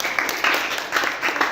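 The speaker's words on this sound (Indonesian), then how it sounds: "Oke, beri tepuk tangan untuk semua." Short burst of scattered clapping from a classroom of schoolchildren, uneven hand claps close by at moderate loudness.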